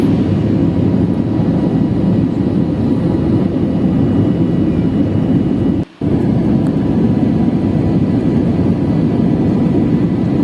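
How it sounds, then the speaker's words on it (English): An Air India airliner takes off from Chennai on a sunny day, its engines a loud, steady, broadband roar heard from inside the cabin for the whole stretch, with one brief dropout. "within a few seconds, like maximum of around 40 seconds, we have commenced our takeoff."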